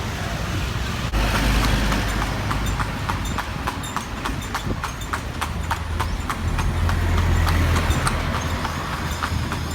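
Horse-drawn carriage hooves clip-clop in a steady, even rhythm on pavement, fairly close and clear over a low rolling rumble of wheels and street noise.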